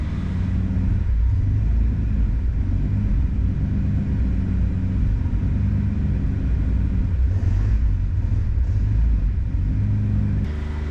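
A Ford Explorer engine idles steadily close by during purge canister and MAF sensor troubleshooting, giving a loud, constant low rumble with a faint shift in tone partway through and no talk over it.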